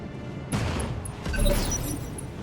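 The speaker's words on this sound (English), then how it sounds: "Firing Alpha Strike." Mech alpha strike weapons fire in the video game RogueTech, a burst of layered booming and crackling gunfire with whooshing launches, loud and sustained, swelling again midway.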